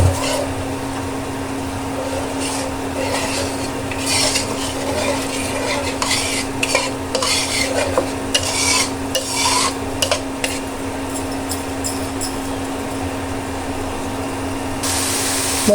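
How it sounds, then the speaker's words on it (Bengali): Spice paste (masala) stirred and fried in a little oil in a pan for a fish curry, a steady close sizzle under repeated scraping strokes of a spatula, with no talking. "এর জন্য মশলাটাকে কষিয়ে নিই।"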